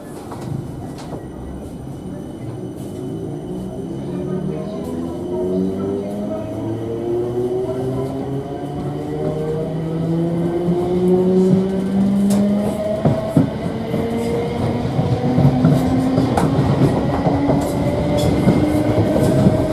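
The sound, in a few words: South Western Railway Class 455 train running to London Waterloo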